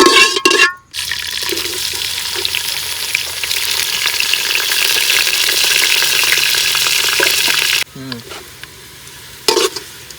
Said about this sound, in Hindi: प्याज मैंने फ्राई कर लिए सारे, ये देखिए बारीक कटे हुए प्याज थे, इनको फ्राई कर लिया